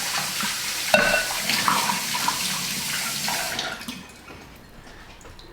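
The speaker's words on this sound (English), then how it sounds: "let me go ahead and give this a quick rinse and a sanitization." Running tap water splashes close up as brewing equipment for making wine is rinsed in a sink, steady and fairly loud for about four seconds before the flow stops and it goes quiet.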